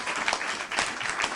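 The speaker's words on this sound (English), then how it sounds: "Please, a round of applause." Brief burst of audience applause for a panel host taking the stage at an autism discussion event, dense clapping from a nearby crowd with slight surges in loudness.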